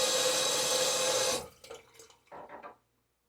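A tap runs steadily for rinsing during a wet shave, then shuts off, followed by a few soft drips and splashes in the sink.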